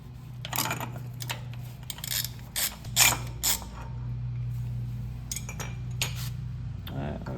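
A part on a Lexus LX470 wheel hub is being loosened, with metallic ratcheting clicks and tool clinks in irregular bursts over a steady low hum, close and moderately loud.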